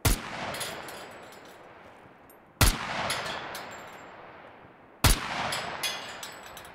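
RPK machine gun in the video game SCUM, heard as three loud, sharp gunshot blasts spaced about two and a half seconds apart, each trailing off into a long rolling echo.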